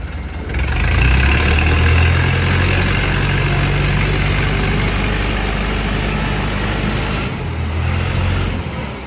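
A Komatsu JH30 wheel loader's diesel engine idles steadily and loudly up close, a deep, constant rumble with vibration that holds throughout and dips only briefly near the end.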